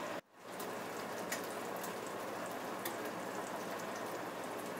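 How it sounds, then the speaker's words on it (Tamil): Rice boiling in a pot of water for paneer biryani, a steady close rush of bubbling and spattering that runs unbroken after a brief quiet start, with no voices. "இனி இந்த அரிசி வந்து வேகிறது வரை வெயிட் பண்ணலாம்."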